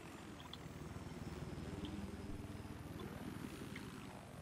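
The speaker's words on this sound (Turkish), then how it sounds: "Arkamda helikopter var." A helicopter in Battlefield 4 on the Sunken Dragon map whirs faintly behind the player, a low, steady rotor chop with engine drone that stays distant and quiet throughout, with no voices.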